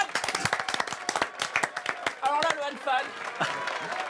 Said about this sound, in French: applaudis Anfan.